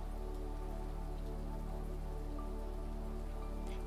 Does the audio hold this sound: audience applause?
no